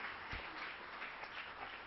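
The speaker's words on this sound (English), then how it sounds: "I hope you can hear the applause" Audience applause at a deceased donor programme event, a brief, fairly faint and steady patter of clapping heard from some distance.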